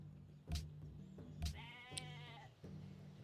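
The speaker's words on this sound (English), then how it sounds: "Well, that's a sheep." A sheep bleating in the Civilization 5 video game, one short wavering bleat in the middle, set against quiet game ambience with a few soft thumps, fairly faint overall.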